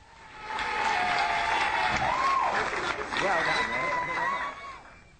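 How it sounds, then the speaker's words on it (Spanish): Crowd applause swells in and holds for several seconds before tapering off, with voices and a tonal sound running over it. "Un aplauso, por favor"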